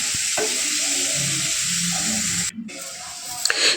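Clam meat with crushed pepper frying in a pan, a steady broad sizzle with stirring scrapes, cutting out briefly near the end before a clatter returns.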